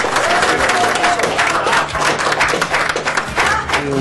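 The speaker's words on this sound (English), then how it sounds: "A big round of applause for Jeff Kimber" Loud, dense applause from a crowd honoring the winner of a poker tournament final in Walsall, sustained clapping throughout with some voices mixed in.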